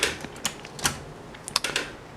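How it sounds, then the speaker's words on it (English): Keys of a 1977 Hermes 3000 portable manual typewriter clack in an irregular run of crisp, close strikes, with no talking. "in the end it is still a manual typewriter"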